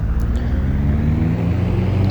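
Aircraft engine in a flight simulator, power rising for takeoff with flaps set: a steady, loud mechanical drone with low whirring hum that holds evenly throughout, no voices.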